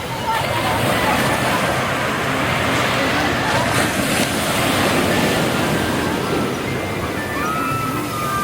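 Ocean waves wash continuously onto Cherai Beach at sunset, a dense steady roar of surf with wind buffeting the microphone and faint background sounds along the shore.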